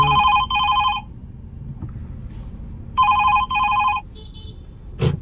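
A phone rings with a ride-hailing app request: a loud, pulsing electronic ring in two double bursts with a gap between them, over a low engine hum from a car in traffic in Mumbai.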